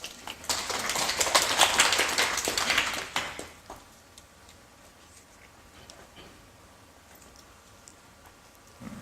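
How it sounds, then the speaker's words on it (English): A lecture audience at a talk on right intention claps in a brief round of applause, dense and fairly loud for about three seconds, then fades to scattered faint ticks in a quiet room. "Give her a round of applause."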